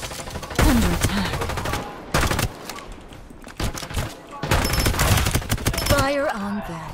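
Bursts of gunfire in the battle-royale shooter Farlight 84, several loud volleys separated by short gaps, mixed with game effects and a voice talking over parts of the action.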